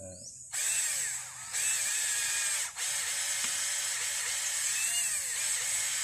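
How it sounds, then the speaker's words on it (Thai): A power drill bores at a 45-degree angle into the trunk of a durian tree, a loud steady whine running almost unbroken with a few brief dips as the bit bites into the wood. "เจาะ เข้าไปที่ลำต้นครับ เฉียง45 องศา เดี๋ยวเราเจาะเลยครับ"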